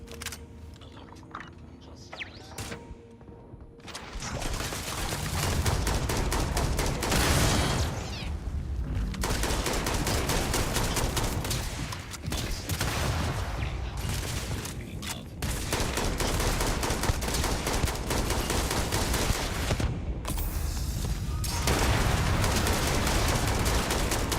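Turret gunfire in the video game Starfield rattles in loud, dense bursts of rapid shots that fill nearly the whole stretch, with brief lulls between volleys.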